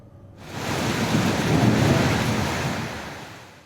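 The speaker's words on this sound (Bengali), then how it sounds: "মাদারীপুরের ডাসার উপজেলায় দুপুর 12টার দিকে বৃষ্টির সাথে শুরু হয় কালবৈশাখী" A Kalbaishakhi Nor'wester thunderstorm with rain in Dasar upazila, Madaripur, Bangladesh: a deep thunder rumble swells for a few seconds over steady heavy rain, then slowly fades.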